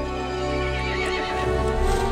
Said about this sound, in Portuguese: O cavalo ficou irritado e chamou os outros monstros.